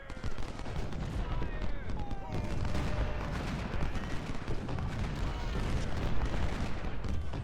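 Artillery and musket fire rumble steadily in an Ultimate General: Civil War battle, a dense continuous wash of distant booms and crackling volleys with no clear pauses.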